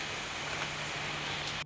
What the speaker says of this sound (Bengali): আজকে এখন সকালবেলা একটু বেশি বৃষ্টি হচ্ছে জোরে